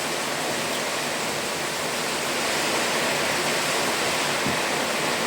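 Heavy rain pours down during a strong storm in the provinces, a dense, loud, continuous hiss that fills the whole space without letup.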